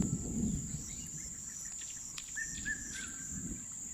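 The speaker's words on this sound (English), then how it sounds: "Beautiful sounds of the birds chirp away and different bird species sounds." Faint chirps and short calls from birds on a farm with pastured donkeys, scattered over a steady high insect drone and low background rumble.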